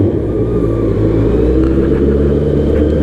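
A LAMS Honda CB650R motorcycle engine drones while riding, a loud, close, low rumble holding steady with a slight rise in revs throughout.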